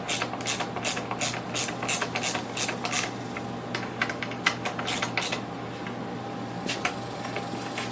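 A ratchet tightening bolts on a manual screen printing press: rapid bursts of clicking pawl strokes in quick series, close and clear, pausing briefly between runs, with no talking.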